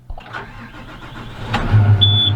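Car with no clutch pedal cranks and starts, a brief whirr building into a steady low idle hum with a thin whine toward the end, close and fairly loud.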